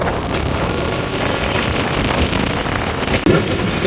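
A train rolls into Talma railway station in Bangladesh, heard from on board as a steady, loud rumble of wheels and carriages with broadband rattling throughout and a brief jolt near the end; no talking.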